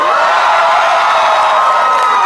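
A convention panel audience screams on cue, a loud, dense burst of crowd shrieking and cheering that holds steady for a couple of seconds.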